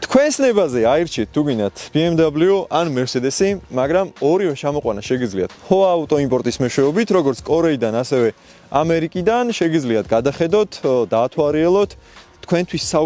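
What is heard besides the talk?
No everyday noise stands out behind the speech.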